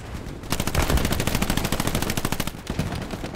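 Gunfire in the Hell Let Loose video game: a rapid, steady burst of automatic machine-gun fire, loud and close, lasting a couple of seconds with even rhythmic shots and fading out at the end.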